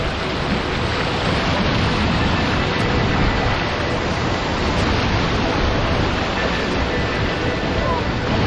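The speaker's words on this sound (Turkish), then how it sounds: "Yağmur yağdığı için biraz bulanık akıyor ama çok güzel bir şelale." A muddy waterfall swollen after rain roars in a steady, dense wash of rushing water, loud and close throughout with no break.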